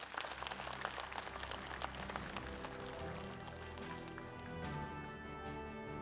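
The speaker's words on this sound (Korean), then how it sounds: "다시 한번 큰 박수 부탁드리겠습니다" An audience at a Korean regional forum claps in sustained, dense applause, a continuous patter of many hands at moderate distance that holds steady throughout.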